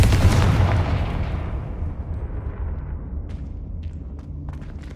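Confringo fire-blast spell exploding in Hogwarts Legacy, a single loud, close burst that booms at once and then decays into a long rumbling tail, with a few faint crackles and ticks as it fades.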